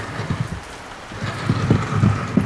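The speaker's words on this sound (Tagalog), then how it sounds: "grabe ka kusog ang ulan." Heavy rain pours down steadily in Bali in the afternoon, a dense continuous hiss with scattered louder drops and thuds, fairly close and loud, with no talking.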